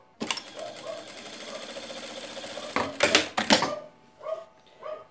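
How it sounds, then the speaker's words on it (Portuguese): A sewing machine stitches a seam along a zipper on a small fabric coin purse, a rapid whirring needle run that stops, then a few louder clunks and short bursts of stitching, close and alone. "vou fazer a mesma costura que fiz do outro lado"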